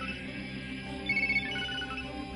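A phone ringtone chirps in a tense indoor scene, with a warbling electronic tone rising briefly midway over a low, steady background hum; no speech over it.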